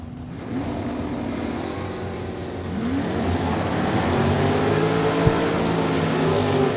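A pickup truck's engine revs hard in the right lane at a drag racing event, a loud, steady drone whose pitch sweeps upward as it builds, with no talking.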